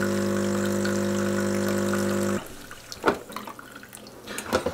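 A Breville Prima Latte espresso machine being descaled hums loudly with its pump, then cuts off as water pours and splashes into a container with uneven spatters.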